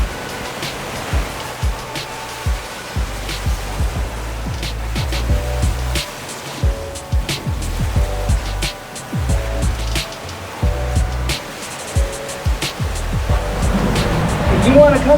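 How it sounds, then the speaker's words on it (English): Ocean waves surge and wash inside Mermaid Cave on Oahu, a rough, rolling roar that rises and falls with surging pulses, heard up close while someone talks intermittently over the water. "The waves can get rough"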